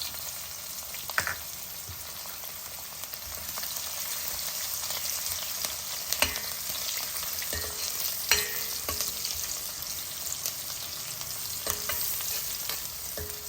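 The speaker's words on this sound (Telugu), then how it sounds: "తర్వాత మన వెల్లుల్లిపాయలు వేస్తున్నాను వెల్లుల్లిపాయలు బాగా వేగాలి" Garlic sizzles steadily in hot oil in a pan for raw mango rasam, a continuous close frying hiss broken by occasional clinks and scrapes of a stirring spoon.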